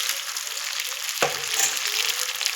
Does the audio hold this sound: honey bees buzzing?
no